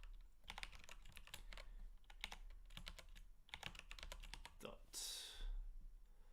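Rapid, uneven clicking of keys on a computer keyboard, close and fairly crisp, ending in a short burst of louder rustling noise.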